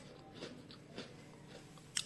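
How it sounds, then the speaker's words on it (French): Crunchy fried flour croquettes (chin chin) are bitten and chewed close to the mic, giving a few soft crisp crunches and a sharper final crack, quiet with no talk. "Donc, les croquettes sont croustillantes et pas dures."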